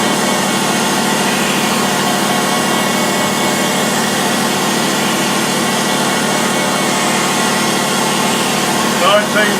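An old surface grinder hums loudly and steadily nearby while sharpening wood chipper blades, giving off a continuous dense whir with a faint grinding texture throughout.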